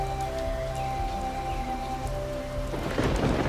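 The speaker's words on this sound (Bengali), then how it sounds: "গুড়গুড় শব্দে ডেকে ওঠে মেঘেরা" Steady monsoon rain patters on surfaces while thunder rumbles low, swelling louder near the end; no voices are heard.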